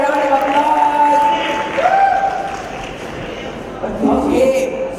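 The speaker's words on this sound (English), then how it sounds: "Give them a round of applause." Audience at a school science show competition giving a round of applause, a steady wash of clapping and crowd noise under raised, tonal voices and brief cheering.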